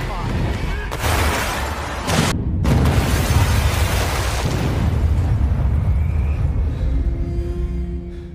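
An explosion in the action film Carter, a bomb going off in a building: a loud, sustained rumbling blast with a sharp burst early on, dense low roar lasting several seconds under a voice.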